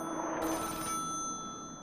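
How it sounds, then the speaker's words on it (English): An in-game telephone rings in the Nancy Drew: Danger by Design video game, one short electronic trill over a steady hum, with no talk. "Oh, are we waiting to answer phone?"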